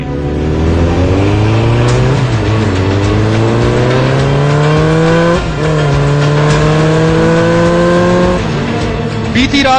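A gang of motorbikes on Delhi roads late at night, engines revving loudly and continuously with rising, falling pitch sweeps as riders accelerate and shift close by, a brief tyre screech near the end.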